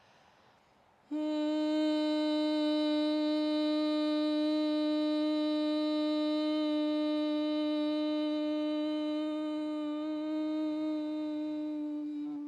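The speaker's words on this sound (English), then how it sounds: "it's more of a higher pitched humming sound" A voice hums one steady, higher-pitched note for about eleven seconds, alone and unbroken, fading slightly toward the end.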